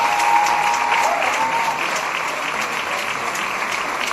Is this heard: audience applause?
yes